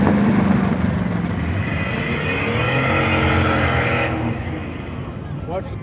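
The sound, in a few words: drag racing car accelerating down the dragstrip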